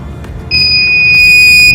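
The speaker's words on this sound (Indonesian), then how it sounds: "kita masukkan ke buzzer, kita tes." A 24-volt buzzer on a PLC trainer module sounds after a low background hum, giving a loud, steady high-pitched electronic tone that holds continuously to the end.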